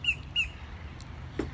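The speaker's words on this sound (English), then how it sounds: "I'm listening to the birds." Birds outdoors give two short, sharp chirps close together at the start, followed by fainter scattered calls over a quiet sunny background.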